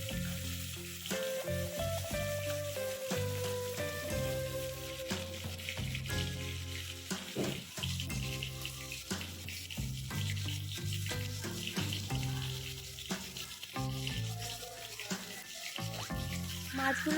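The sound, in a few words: fish frying in hot oil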